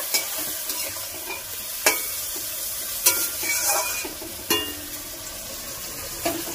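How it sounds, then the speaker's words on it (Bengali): Ground spice paste being stirred and sautéed in a pan for a rui fish curry in a village kitchen, with a steady close sizzle punctuated by repeated scraping strokes of a spoon against the pan. "এবার মশলাটা দিয়ে কিছুক্ষণ আমি ভালো করে কষিয়ে নেব।"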